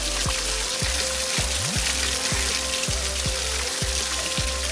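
Spring water flows and splashes steadily beside a mountain trail in Taplejung, Nepal, a continuous close watery rush with no talk.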